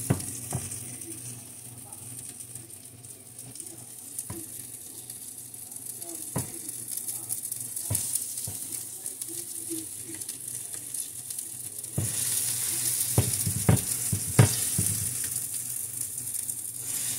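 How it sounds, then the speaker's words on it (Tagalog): Quaker oats frying in a little olive oil in a pan, giving a soft, steady sizzle. Occasional scrapes and taps of a utensil are heard, growing busier toward the end, with no speech. "Linagyan ko siya ng konting olive oil para sa ganun ay hindi siya dumikit sa"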